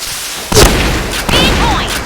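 A grenade blast in the first-person shooter Point Blank hits at about half a second as a loud boom. Dense gunfire and game effects follow, with a second loud burst around 1.3 seconds.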